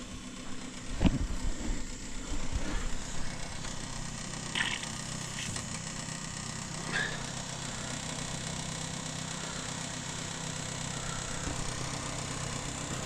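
A small pump runs with a steady low mechanical drone, moderately faint, with a few scattered knocks and clatters early on.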